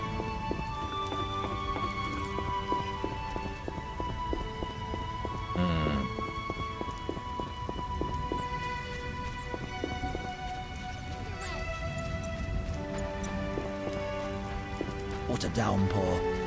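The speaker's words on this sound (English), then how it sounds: "What a downpour" Steady rain patters down heavily throughout in the video game The Witcher: Enhanced Edition, with occasional clip-clop of hooves and a horse whinny amid a constant wet hiss.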